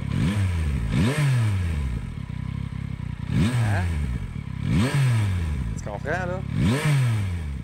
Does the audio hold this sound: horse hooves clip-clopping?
no